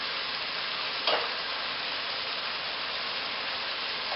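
Vegetable curry with diced sage, cinnamon and reishi mushroom powder sizzles in a pan, a steady bright frying hiss interrupted by one quick scrape of stirring.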